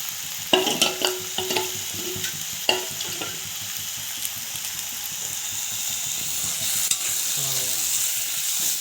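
Goat liver curry with paste being stirred in a pan: scraping spoon strokes in the opening seconds over a continuous frying sizzle that carries on, slightly louder, toward the end.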